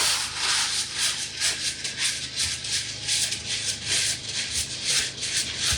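Wax rubbed by hand onto a textured Santa bust to seal it, a close, steady swishing with rhythmic back-and-forth strokes throughout, no talking.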